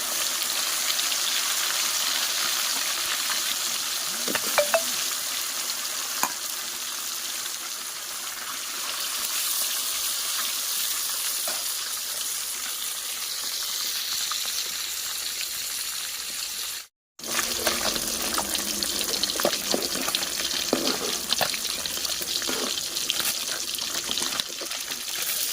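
Fresh fish frying in a pan, a steady loud sizzle and crackle of hot oil that runs continuously, with a brief pause partway through before the frying resumes, no speech.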